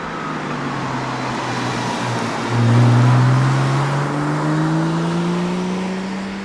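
A Porsche Boxster 986's M96 water-cooled flat-six engine runs steadily near the microphone, with a low engine tone that swells briefly as the revs rise and then settles into a smooth, even drone.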